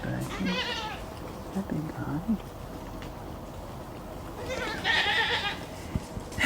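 Goats bleat nearby, two loud wavering cries separated by quieter rustling and a few softer animal sounds.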